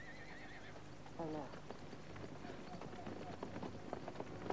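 A horse whinnies near the start, and its hooves clip-clop steadily through the rest of the stretch, under a busy outdoor ambience with a voice heard briefly.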